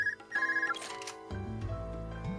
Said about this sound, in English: Why do we just get a random phone call?